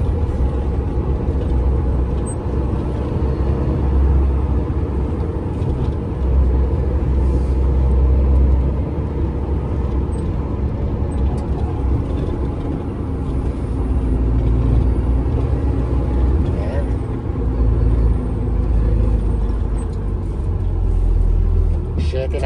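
Volvo truck engine roaring steadily at a dumping area, a loud continuous low drone that swells and eases, with voices talking over it.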